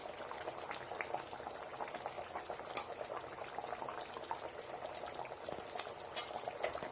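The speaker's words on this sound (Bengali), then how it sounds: "ঝোলটাও ফুটতে শুরু করেছে" Curry gravy for a chickpea-lentil dhoka dalna bubbling steadily in a pan, a dense continuous simmering hiss with fine popping, close and fairly quiet, no talking.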